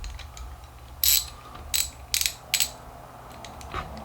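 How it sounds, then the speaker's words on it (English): A 72-tooth ratchet on a US PRO 3/8-inch drive socket wrench clicks in four or five short, sharp bursts of fine rapid ticks, close and clear against a quiet background with no talk. "And we get a good ratcheting action. It's a 72 tooth ratchet too"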